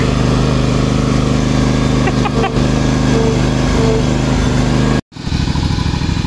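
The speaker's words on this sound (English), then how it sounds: "just moving stuff around with my lawnmower" An old lawn mower engine putters loudly and continuously up close, cutting out abruptly for a moment before roaring back, with faint voices beneath the mechanical drone.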